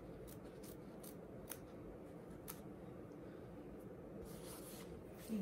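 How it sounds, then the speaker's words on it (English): Scissors snip around a fabric letter for a quilt appliqué, giving a run of crisp, irregular close cuts over a low steady background hum. "I have to pop that little hole and cut around here for the letter A"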